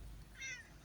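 A single short cat meow, mid-pitched and fairly clear, answers a call to come, alone without talk.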